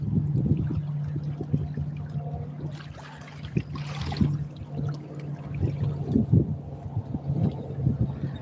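Wind gusting across open water around a small fishing boat out after sheepshead, redfish and mangrove snapper, buffeting the microphone as a steady low roar with a brief louder surge midway and no talking.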